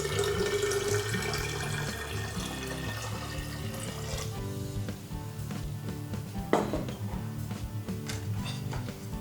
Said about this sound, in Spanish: Ponemos el agua en el tarro.